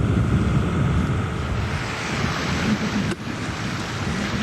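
A heavy 1,200-pound TOYO slurry pump working in a crusted pond, giving a steady, close rushing and churning wash of thick slurry with a continuous broadband roar and one brief dropout near the end.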